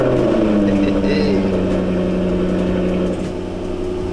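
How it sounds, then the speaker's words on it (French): A Jaguar F-Type R V8 engine in a cold start, a loud, close, droning idle with strong low engine tones that ease slightly in the last second. "si on veut commencer correctement sa journée avec une Jaguar F-Type, c'est le démarrage à froid"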